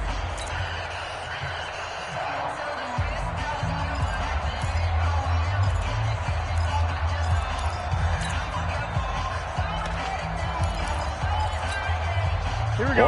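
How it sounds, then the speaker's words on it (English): A stadium crowd in a PS4 football video game keeps up a steady, swelling roar beneath continuous commentator talk, building slightly as play nears a big third down. "The crowd getting into it as we come up on a big third down."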